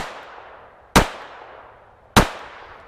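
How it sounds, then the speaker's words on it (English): Two sharp, close gunshots from a Taurus PT-22 Poly pocket pistol, spaced about a second apart, each a quick crack fading into a short decaying tail. "Let's see if we can get some headshots with this little pocket pistol."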